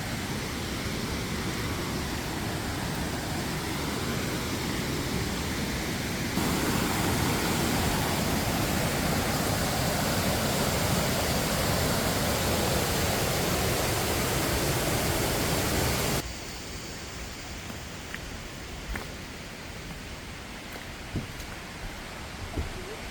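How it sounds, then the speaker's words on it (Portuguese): Loud, steady roar of a waterfall crowded with Sunday bathers in Chiapas, Mexico, a broad rushing wash that drops noticeably quieter partway through, with faint splashes and voices scattered beneath. "E essa é a cachoeira de domingo, com bastante gente."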